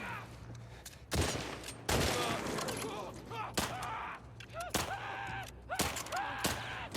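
Gunfire in The Last of Us Part II comes as a few loud bursts and single sharp shots mixed with game sounds, while people talk excitedly over the action.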